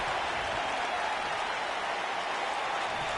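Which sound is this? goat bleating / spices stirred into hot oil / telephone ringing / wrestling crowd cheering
wrestling crowd cheering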